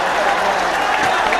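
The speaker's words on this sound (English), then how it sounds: "And the Pathana crowd delighted." A rugby match crowd cheers and claps loudly in a steady roar, with a commentator's voice running over it.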